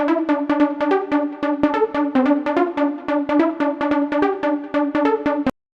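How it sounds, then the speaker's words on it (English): A classic trance supersaw synth plays a fast, steady stream of bright plucked notes in a repeating melodic pattern, loud and close, ending abruptly, with no voices. "this classic trance supersaw plug"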